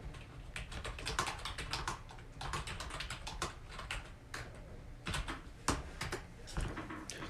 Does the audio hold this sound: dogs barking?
no